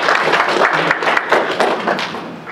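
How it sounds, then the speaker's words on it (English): Audience applause at a county supervisors' public hearing on a casino: loud, close, sustained clapping with some thumps, filling the room and easing slightly toward the end. "Refrain from the applause and the comments."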